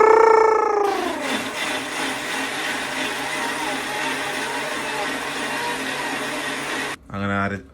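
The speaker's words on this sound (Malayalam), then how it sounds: "അങ്ങനെ അരച്ചു, ദോശയ്ക്ക് അരച്ചു" An electric mixer grinder whirs loudly and steadily while grinding dosa batter, starting with a falling whine, then a sustained droning grind before it stops abruptly and briefly restarts.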